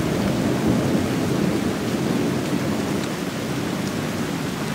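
Heavy rain pours steadily during a thunderstorm with lightning, a dense continuous hiss with low rumbling beneath, loud and close, with no voices.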